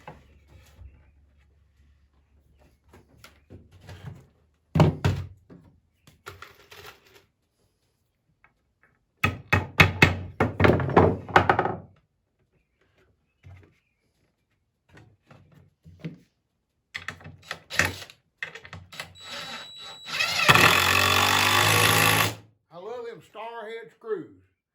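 Star head screws being driven while building a 4 ft cherry glider: one short, loud whirring burst of about two seconds, set between stretches of talk and scattered knocks.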